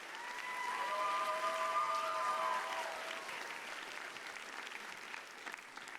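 An indoor audience claps for the 2019 Rose Court at a coronation ceremony, a steady round of applause that swells, holds, then gradually thins and fades, with a faint tone running under the opening seconds.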